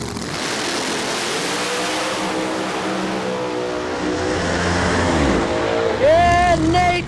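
No-prep drag race cars launch at US 131 Motorsports Park, a loud sustained engine roar that builds as they accelerate and ends in a rising high-revving whine, with an announcer talking over it.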